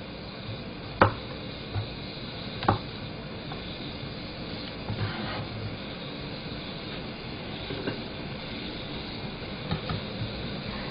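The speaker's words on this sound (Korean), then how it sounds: "밤 1cm로 썰겠습니다." A knife chops chestnuts into pieces on a cutting board, with a few distinct knocks spaced irregularly over a steady background hiss.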